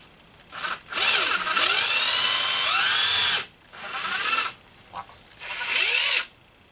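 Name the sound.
power drill drilling through leather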